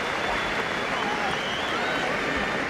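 A big indoor boxing crowd at the London Arena, a broad steady roar of voices and noise filling the space, loud and continuous without distinct claps.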